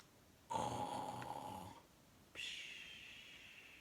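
A voice imitates snoring: a long, drawn-out inhaled snore, a pause, then a softer whistling exhale, quiet and close.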